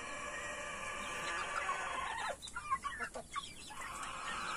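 Heritage chickens cluck in a short, soft burst of several calls partway through, over a steady background hiss.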